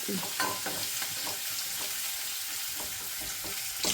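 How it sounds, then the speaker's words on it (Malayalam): A ladle stirs sambar in a pot, giving repeated scraping and swishing strokes over a soft background sizzle, close and fairly quiet, with no talking. "ഇതൊന്ന് ഇളക്കിക്കൊടു ആ തവി കൊണ്ട് തന്നെയാണ് ഇളക്കണം"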